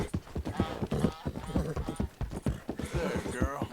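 Horse hooves clip-clop at a gallop in Red Dead Redemption 2, a recently stolen horse with little stamina, steady rhythmic beats running under nearly constant talk.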